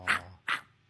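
A person imitates a small dog with two short, sharp yaps, pausing briefly between them, up close in a quiet room.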